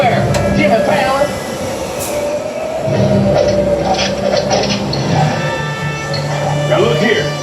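Rumbling ride aboard a studio tour tram, a steady rolling drone with wheel noise and occasional squeals throughout, while people talk over it.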